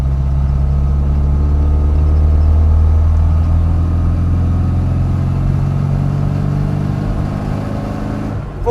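A restored 1991 Rover Mini City-E 1000 with its small engine droning steadily from inside the car, rising and settling as it pulls through the gears, loud and continuous with no talking.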